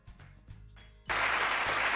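Children clap in a classroom during a narrated story. After a second of near silence, a sudden burst of dense, sustained applause starts and stays loud to the end.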